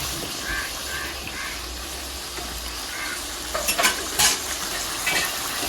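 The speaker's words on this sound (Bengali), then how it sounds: "মাছের মাথা ভাজা হয়ে গেছে" Katla fish heads fry in hot oil with a steady, close sizzle throughout, joined near the end by a few sharper bursts of spatter and crackle.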